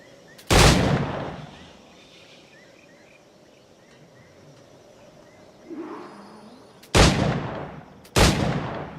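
Firearm shots in Assassin's Creed IV Black Flag ring out as sharp, loud blasts: one early, then two more close together near the end, separated by quiet ambient stretches with faint insect-like chirps.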